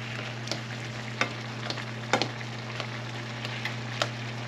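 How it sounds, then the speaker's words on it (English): Chicken thighs frying in a pan on a stove, a steady close bubbling sizzle with occasional sharper pops and spits, under a constant low hum. "So we see it's nice and bubbling here."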